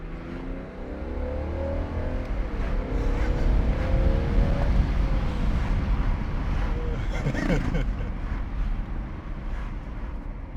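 BMW 640d diesel engine building revs heard from inside the quiet cabin, a low muffled drone rising steadily toward a higher pitch near the end, with faint talk.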